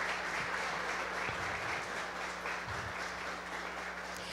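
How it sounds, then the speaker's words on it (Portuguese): Steady applause from a church congregation, dense and sustained clapping that holds at an even level throughout, with no voices standing out. "Palmas para eles, porque eles foram incríveis."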